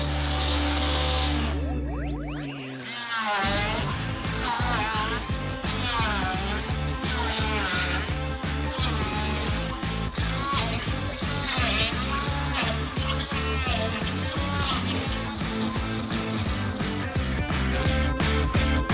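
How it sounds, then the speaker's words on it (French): An electric blender whirs loudly and steadily as it purees diced fruit into a smoothie, a dense continuous motor roar close up with no talking. "À l'aide d'un mixeur, hachez le tout pour obtenir un smoothie."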